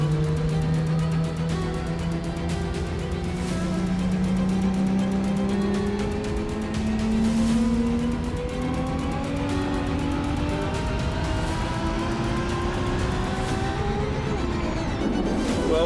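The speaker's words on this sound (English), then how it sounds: "Cheryl is going to attempt to break the land speed record in a soulless camper van on a Ram chassis" A camper van built on a Ram chassis speeding across the Bonneville Salt Flats in a land speed record attempt, its engine droning loudly with a steadily rising pitch as it accelerates, wind noise and a faint voice under it.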